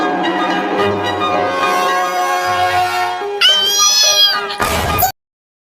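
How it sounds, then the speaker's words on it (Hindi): A small kitten gives a few high, thin meows, close and clear, following a stretch of music with a low, steady tone underneath. "वो छोटी बिल्ली अभी बोली।"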